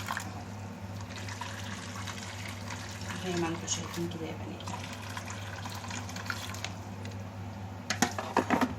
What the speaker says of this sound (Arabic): ودلوقتي هنزل عليها بميه سخنه كده، نص الكاتل، مليت نص الكاتل ميه سخنه